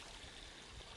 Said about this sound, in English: We have an old bathtub there that's flushing out some fresh water.